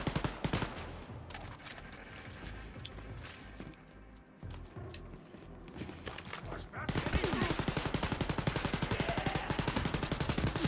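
Gunfire in the shooter Wolfenstein Youngblood, with scattered loud shots and impacts early, then a sustained rapid automatic burst of rhythmic, close, loud fire to the end.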